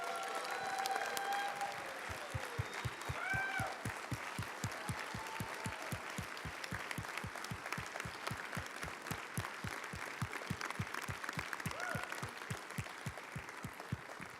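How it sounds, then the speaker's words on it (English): A crowd at the Scholarfest 2018 event applauds GRCC students, sustained clapping that holds for more than ten seconds, fairly faint and distant, with a regular pulse of beats underneath. "I want you to give the largest, most arousing applause for the true folks of the hour, our GRCC students."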